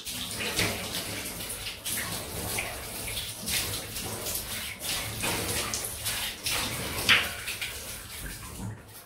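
A Rockwell safety razor rinsed under a running tap, a steady close splash and gush of water lasting several seconds with small clinks near the end.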